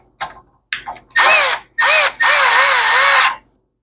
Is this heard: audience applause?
no